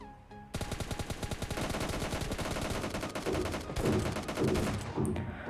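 PUBG Mobile Lite gunfire rattles in long, rapid automatic bursts, nearly continuous, with a short pause before a final volley.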